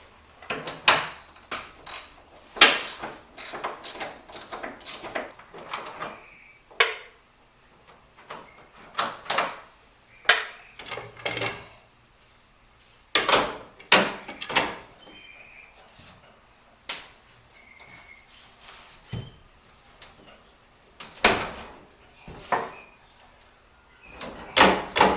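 Work on the hood hinges of a C3 Corvette brings a string of sharp metallic clanks, clicks and knocks at irregular intervals, close and fairly loud, with quieter handling noise in between.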